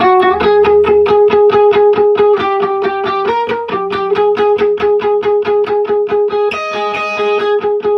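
An electric guitar with no effects picks rapid, even repeated notes in a steady chugging rhythm, clean, dry and close, shifting pitch a few times.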